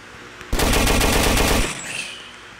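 A loud burst of rapid pistol fire in a zombie video game, lasting about a second, followed by fainter game sounds.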